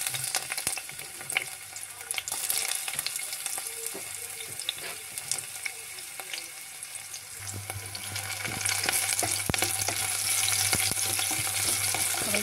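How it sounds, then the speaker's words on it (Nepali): Onions frying in a pan for a potato curry, a continuous bright sizzle that grows a little fuller partway through, with a low steady hum and occasional small clicks underneath. "अब प्याज हालौँ है साथीहरू।"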